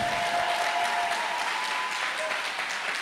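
A church congregation applauding the Lord in a sustained, dense wave of clapping that fills the room, steady and loud, with a few voices and cheers mixed in.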